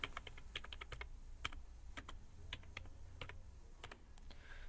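Quiet, uneven keystrokes on a computer keyboard while text is typed into a PDF, heard alone with light background hum.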